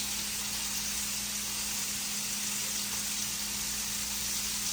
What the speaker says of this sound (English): We're going to saute them just a few more minutes.